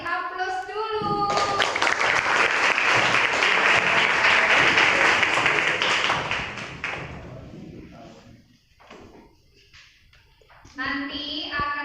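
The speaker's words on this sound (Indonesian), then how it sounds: "untuk yang bisa menjawab kita beri aplaus dulu" Pupils in a classroom break into a burst of applause lasting about six seconds, loud and dense, then fading into quieter shuffling before a voice resumes speaking near the end.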